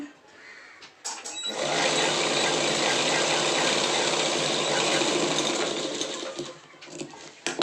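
Sewing machine stitching pant fabric, which starts after a second and runs as a steady, loud, fast whirring drone for about five seconds, then slows and stops with a few clicks.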